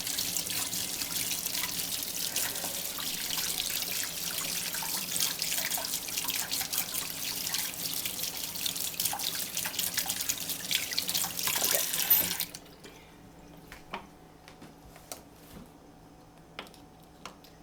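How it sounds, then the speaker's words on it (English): Very hot tap water runs steadily into a kefir grain jar as it is rinsed, a loud continuous splashing rush that stops abruptly, leaving faint drips and small clinks. "So you just rinse it every day in very, very hot water."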